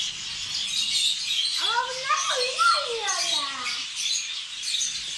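Tropical birds in a zoo bird house at Malatya Zoo give a rapid run of descending chirping calls. The calls are moderately loud over a faint background of chatter and high twittering.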